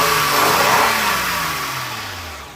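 A 1998 Honda Accord 3.0 engine revs up and then winds down, its loud mid-pitched roar falling steadily in pitch and volume over a few seconds, with no talking.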